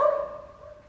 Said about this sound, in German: Mehrere Hunde auch.